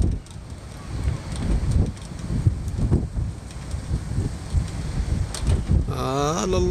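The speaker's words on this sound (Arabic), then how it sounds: "كاين واحد الريح مجهد اليوم" Strong gusty wind buffets the microphone with a steady low roar, and a short harmonic tone rises near the end.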